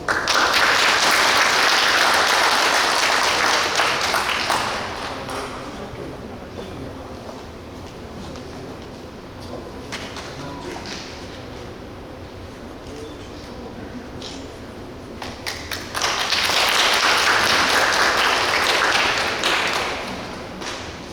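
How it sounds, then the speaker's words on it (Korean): Clapping from an audience at a donation ceremony for a special exhibition at a textile museum in Daegu, greeting visiting children; two loud bursts of applause separated by a quieter stretch of scattered claps and room noise. "여기 박수 한번"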